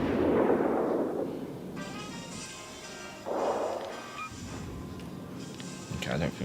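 Warship guns firing in the naval video game World of Warships: Legends, deep booming shots rolling out twice amid game music and effects, with a person talking over them.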